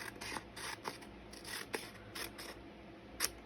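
Scissors snip through paper as it is trimmed for a handmade garden journal: a quick, close run of crisp cuts in an uneven rhythm, with no talking.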